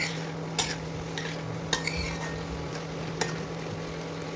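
Breakfast ingredients frying in a pan, a low steady sizzle broken by a few sharp clinks of a utensil against the pan, no one talking.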